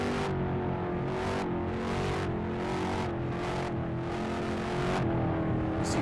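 Race car engine held on the throttle in a Halifax race, a loud, close buzzing drone with rhythmic rises and drops in pitch as the driver lifts and reapplies power, with no talk.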